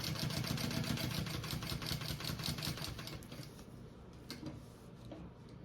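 A sewing machine running a long basting stitch while a waist bag is assembled, a steady fast mechanical chatter of rapid regular needle strokes that runs continuously, then eases and turns sparser toward the end, close and fairly quiet.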